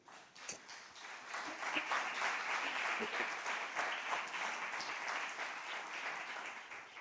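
A crowd applauding, sustained and fairly loud, building quickly and holding steady for several seconds.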